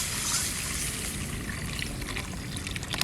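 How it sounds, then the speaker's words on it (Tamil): Tomato-tamarind water poured into a pot of thuthuvalai leaf rasam, a continuous close splashing trickle of liquid that runs for a few seconds on its own. "தக்காளி புளியும் சேர்த்து கரைச்ச தண்ணியை ஊற்றிக்கலாம்."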